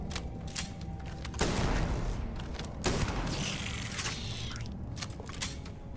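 Gunfire in the game Starfield: a few heavy bursts of shots and booms with mechanical clatter between them, loud and close, no talk.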